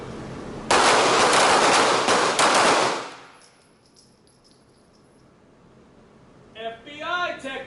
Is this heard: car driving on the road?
no